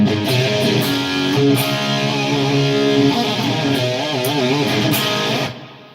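Distorted electric guitar through an HX Stomp plays sustained, thick chords with some wavering bends, steady and loud for several seconds before cutting off abruptly.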